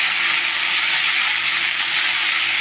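Dantu greens frying in a pan, a loud, close, continuous hissing sizzle that holds steady from start to finish with no voices.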